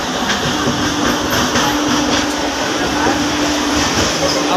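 Train passing on rail near Jaleswar station, a loud continuous rumble and rattle of wagons rolling past close by, with faint voices in the background.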